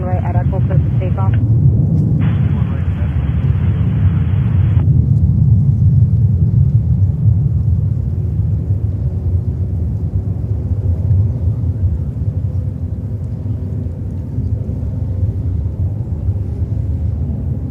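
An airliner takes off at JFK airport, a steady deep jet rumble that holds and slowly fades, with a voice speaking over it.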